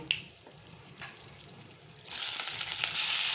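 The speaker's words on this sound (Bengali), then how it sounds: "এখন সেমভাবে আমি এখন পটলগুলোকেও ভেজে নেব" Pointed gourd frying in hot oil, a soft steady sizzle that grows suddenly louder and denser partway through, with faint stirring clicks and no voices.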